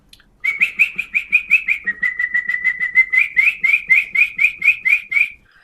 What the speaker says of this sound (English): Or oh, is that a canary?